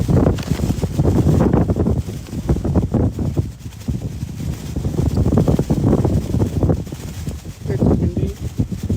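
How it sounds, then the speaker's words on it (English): Strong wind buffets the microphone outdoors in heavy, rumbling gusts that swell and ease throughout, with a person speaking briefly beneath the roar. "It's windy."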